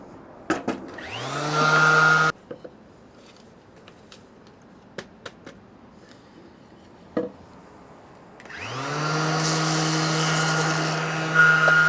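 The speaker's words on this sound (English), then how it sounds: "I think the plan is to clamp all of these together and sand all of them in one pass" Power sander working over treated wood boards clamped together, running in two loud sustained bursts at the start and end with a steady motor whine, separated by a quiet stretch of light knocks and handling sounds.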